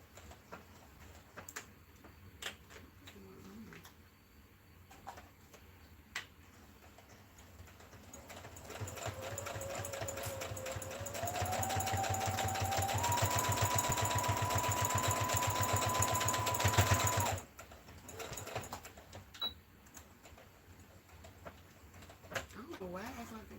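A sewing machine stitching a potholder runs for several seconds as a steady rising whir, close and moderately quiet, amid faint handling clicks and room noise before and after.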